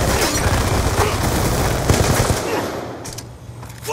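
A sentry gun fires in Call of Duty Black Ops 2, rapid loud bursts of automatic gunfire over a booming game soundscape that tails off after a few seconds.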